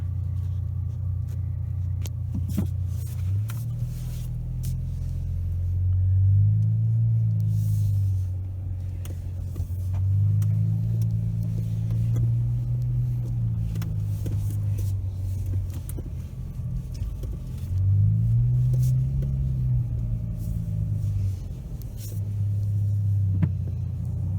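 A Chrysler 300 AWD 3.6 V6 with performance exhaust and intake rumbles low and steady from inside the cabin, windows closed, rising and falling under gentle throttle below a quarter, a deep exhaust drone with no talking.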